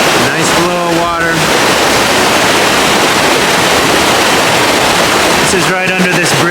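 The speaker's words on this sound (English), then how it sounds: "Nice flow of water." Water flowing beneath a bridge at Lake Padden on a cold day, a loud, close, continuous rushing roar that fills the whole stretch, with faint tonal sounds at the start and end.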